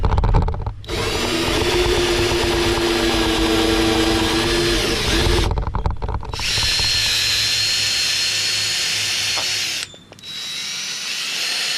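Power drill boring a hole in a 2015 GMC Sierra pickup during an HID light install, a loud, steady close whine running for long stretches with two brief pauses.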